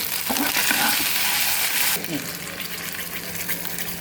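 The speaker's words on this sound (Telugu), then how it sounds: "అల్లం వెల్లుల్లి పేస్ట్ మంచిగా ఫ్రై కావాలి" Ginger garlic paste fries in a little oil with a bright, close sizzle, joined by a few stirring scrapes. Partway through, the sizzle settles into a softer, steadier hiss.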